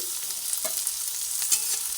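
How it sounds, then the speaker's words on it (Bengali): Onion and garlic frying together in a pan for a Bengali katla fish and brinjal curry, a soft steady sizzle with a few brief stirring scrapes, close by and with no talk. "পেঁয়াজ আর রসুন একসঙ্গে ভাজা হচ্ছে"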